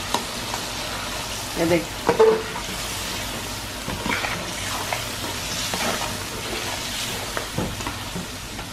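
Mutton pieces for Afghani gosht fry and get stirred in a pan, a steady close sizzle with scraping spoon strokes and a few louder clanks; someone briefly speaks over it.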